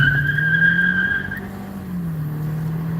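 A 2014 Ford Escape spins a tire while power braking, a sustained squealing screech over a steady engine drone that fades partway through while the engine keeps running.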